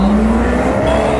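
Maserati Quattroporte with a 4.7-litre naturally aspirated V8, heard as a loud, close engine note that rises in pitch in a brief rev burst.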